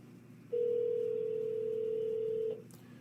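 A payphone call connects with a steady, loud electronic tone that holds for about two seconds and then cuts off, over a faint background hum.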